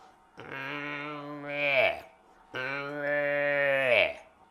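Two drawn-out bleating calls from a voice imitating a young cow calf, each rising and cracking at the end, close and fairly loud with a short gap between them.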